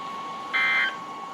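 A phone sounds a short electronic emergency alert tone for a flash flood warning, a single steady beep of under half a second that stands out clearly over a faint background hum.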